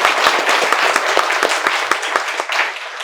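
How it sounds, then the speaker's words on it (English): An audience applauds together in a dense, steady burst of clapping that is loud and close and holds for about three seconds, with no talk over it. "Thank you for respecting my words and clapping"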